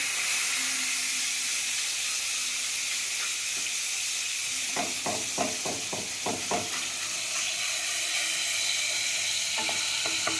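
Food frying in a pan over low gas, a soft steady sizzle with a quick run of spoon scrapes and taps from stirring midway, then the hiss continuing alone.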